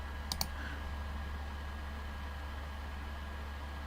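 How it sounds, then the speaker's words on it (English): A computer mouse double-click, two quick sharp clicks close together near the start, then only a low steady hum. "If you double click it, if you modify"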